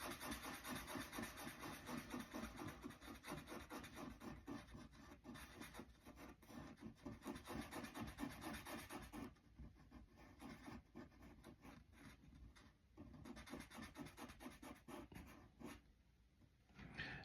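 Drawing tool shading a picture on paper, making faint rapid back-and-forth scratching strokes in a steady rhythm with a few short pauses, close and quiet without any voices.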